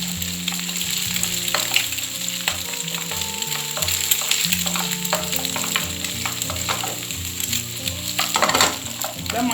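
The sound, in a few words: eggs and chicken frying for fried rice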